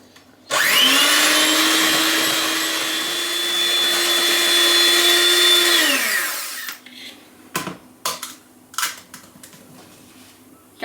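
An electric mixer beats keto cookie dough with vanilla and egg added, a loud steady motor whine that runs about five seconds and winds down, followed by a few scattered knocks and clatters of the bowl.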